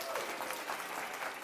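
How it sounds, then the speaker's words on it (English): A crowd at Dan Wardell's Reading Road Trip in Iowa City applauds the Iowa City Public Library staff and volunteers, giving a brief, dense, even burst of clapping with some crowd voices blended in. "Can we give them a big round of applause,"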